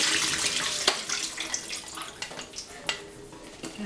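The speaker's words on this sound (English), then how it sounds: "So this is the olive after so long time, and I will rinse it" Olives being rinsed under a running tap with cool water, giving a steady close splashing hiss with occasional louder splashes and knocks against a bowl.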